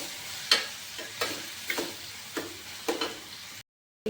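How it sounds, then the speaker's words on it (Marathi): Finely chopped tomatoes stirred and sautéed in a pan while making pasta, a soft sizzle under repeated scraping stirs of a spoon, about five strokes at steady intervals, fairly close, with no talk. "2 चिरलेले बारीक टोमॅटो। हे छान असं आपल्याला आता परतून घ्यायचं आहे"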